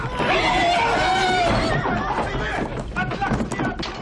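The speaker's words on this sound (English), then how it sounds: "the sounds of the horse, right?" A loud, close horse whinny rises and trembles, then trails off into snorting and shuffling, with a busy crowd-like background underneath.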